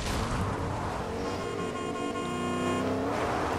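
A car drives by in the video game Fortnite, a steady engine drone with a rising whine through the middle, close and loud, with no talk over it.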